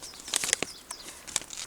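Crinkly bird netting is handled nearby, giving several sharp rustling and crackling bursts with brief pauses between them.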